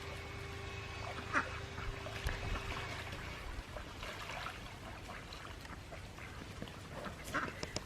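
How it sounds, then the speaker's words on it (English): Ducks quack intermittently by a creek trickling with little water, with geese nearby, mixed into steady outdoor water and ambient noise at moderate distance. "But the geese and the ducks are loving it."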